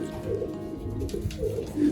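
Pigeons at a zoo coo in low, throaty, rolling calls, several overlapping close by in a continuous murmur.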